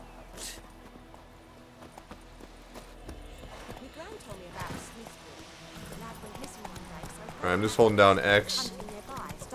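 Horse hooves clip-clop on a path in The Witcher 3: Wild Hunt on PS4, a rhythmic trot building louder toward the end under someone talking casually throughout.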